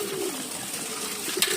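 Pigeons coo softly in a breeding loft, a low steady murmur of calls with a brief brighter rustle near the end, no talking.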